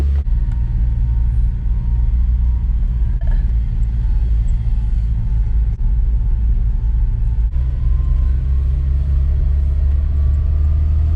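A Toyota Tacoma pickup idles roughly, its engine a loud, steady low rumble that never drops out, with a slight uneven throb through it and no voices over it.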